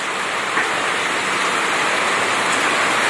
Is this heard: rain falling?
yes